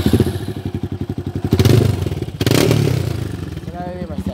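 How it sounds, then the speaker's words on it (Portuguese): A Yamaha Fazer 250 motorcycle fitted with a Fortuna F1 exhaust idles with a loud, rapid, close popping pulse, then revs up twice in rising surges before settling back, with voices calling out over it. "Vou ligar aqui pra vocês sentirem um pouco da pressão do escape."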